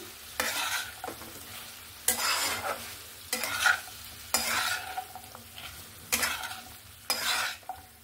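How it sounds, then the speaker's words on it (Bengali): Drumstick vegetables stirred into a mustard and poppy seed spice paste in a hot pan, six or seven rhythmic scraping strokes under a steady sizzle, close and fairly loud, no talking. "সবজিগুলো দিয়ে ভালো করে মশলার সঙ্গে নাড়াচাড়া করে নেব"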